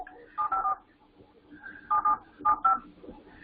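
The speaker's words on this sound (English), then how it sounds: "So, okay, so let's call Michael W. or whoever this is and see." Touch-tone telephone keypad dialing a number, three short bursts of paired beeps with pauses between them, fairly quiet and close with faint background noise.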